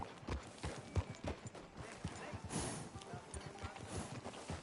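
Rhythmic hoof clip-clops of a horse walking on a hard surface in Red Dead Redemption 2, steady and fairly close, with faint background ambience and no voices.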